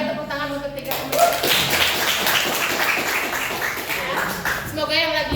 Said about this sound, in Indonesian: Boleh tepuk tangan untuk 3 menit.